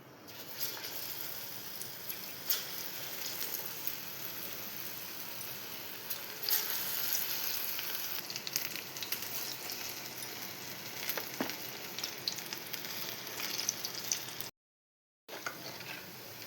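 Moong dal bhaji deep-fry in hot oil, a steady, fairly quiet bubbling sizzle with occasional crackles and spoon clinks, briefly cut to silence near the end.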